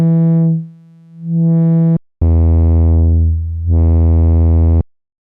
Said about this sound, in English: And let's try some light distortion.